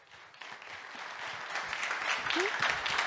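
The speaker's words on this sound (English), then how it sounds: "Give them a big applause." Audience applause at WordCamp Europe swelling from a light start into a full, dense round of clapping from a large crowd, with a faint voice briefly heard near the end.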